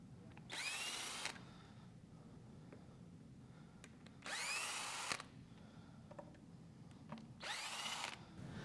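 Power drill zipping out the screws that hold a speaker driver, three separate bursts of whirring a couple of seconds apart with quiet handling between them, close up.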